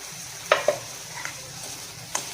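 Prawns going into a pan of frying onion with salt and flour: a few sharp clinks and clatters from a spoon over a soft, steady sizzle, close and fairly quiet.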